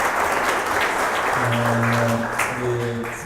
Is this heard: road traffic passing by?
no